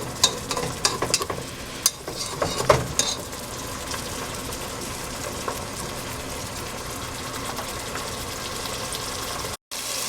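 A Kenyan coconut curry sizzles and fries in a pan with a steady hiss. A few sharp stirring clanks come early, then the hiss settles into a quieter, even frying sound with no talk.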